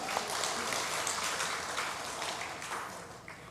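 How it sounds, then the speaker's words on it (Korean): A congregation applauds at a large Holy Spirit worship rally in Haeundae, Busan; steady, dense clapping fills the whole stretch at moderate volume without pause. "박수하겠습니다."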